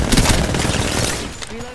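Heavy Wingman pistol shots in a first-person shooter game fire in a rapid, loud cluster of punchy blasts, mixed with other combat noise.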